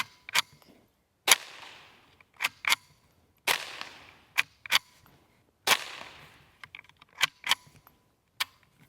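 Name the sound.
Ruger 10/22 rifle firing CCI Quiet rounds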